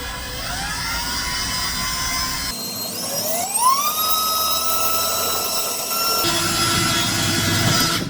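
A high-pitched power drill whines steadily, its pitch rising as it spins up, running loudly and continuously for several seconds while drilling through a KTM 890 motorcycle clutch part, with no voices.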